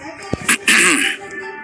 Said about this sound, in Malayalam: അയാൾ തന്റെ മുഖഭാവം മറയ്ക്കുവാൻ വേണ്ടി ഉച്ചത്തിൽ ചുമച്ചു.